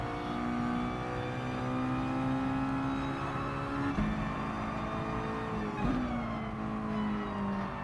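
A Mazda MX-5 race car in a racing video game at Lago Maggiore drones steadily at high revs, its pitch climbing and then dropping at shifts around four and six seconds, loud and continuous with no talk.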